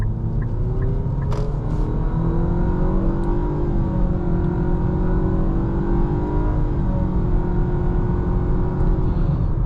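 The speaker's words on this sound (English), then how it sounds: "Quick acceleration for y'all." A 2026 Nissan Sentra SR in sport mode accelerates hard with a CVT, heard from inside as a steady, loud low rumble and engine drone rising evenly with road noise and no talk.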